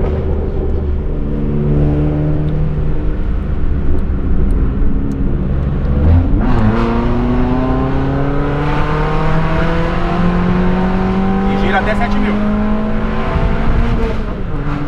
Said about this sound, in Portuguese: o motor respondeu. O giro demora pra subir.